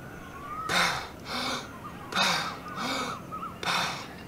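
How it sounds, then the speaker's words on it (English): Recovery breathing after a breath hold in freediving practice: a close series of about five strong, hissing breaths, sharp inhales and forceful exhales in a steady rhythm, with no talk. "So obviously when you finish holding your breath, you need to recover it. And this is why we call it recovery breathing."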